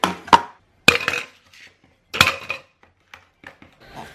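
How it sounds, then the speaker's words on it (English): Ice cubes are grabbed from a freezer and dropped into a glass in a home kitchen: a few sharp, close clinks and clatters separated by quiet pauses, with faint rustling between. "we're gonna grab some ice, you know, put in our glass"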